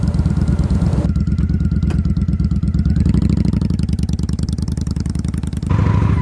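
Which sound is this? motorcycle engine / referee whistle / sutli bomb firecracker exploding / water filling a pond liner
motorcycle engine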